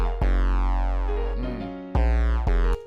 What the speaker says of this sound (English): It's a bass, nothing too crazy.